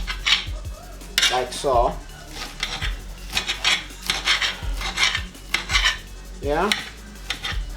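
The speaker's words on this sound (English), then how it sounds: "I'm gonna go through and just like make them a little bit smaller again. Just like dicing through." A knife dicing prawns on a cutting board in a home kitchen, with repeated close knocks and scraping chops in an uneven rhythm, while a person briefly speaks.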